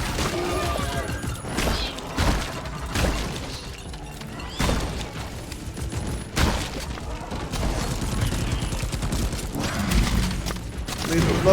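Rapid bursts of gunfire from the Bosco support drone in Deep Rock Galactic, blasting at swarming bugs in a cave, with loud repeated volleys, thuds and crashes over about eleven seconds, mixed with game noise.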